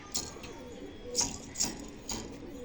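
A restless female pigeon held in hand, with several soft wing flutters and scuffling bursts, close and moderately loud, and faint low cooing beneath.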